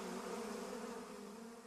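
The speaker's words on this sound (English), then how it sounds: "a swarm of black bees came flying towards her" A swarm of black bees buzzing as a sound effect, a dense steady drone that holds evenly throughout, moderately faint, with no voices.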